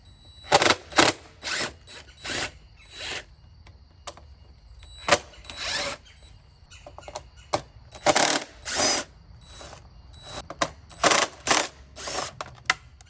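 A ratcheting screwdriver removes T20 screws from the windshield of a Harley-Davidson Pan America motorcycle, giving repeated short bursts of clicking in irregular rhythm, close and fairly loud, with no talk.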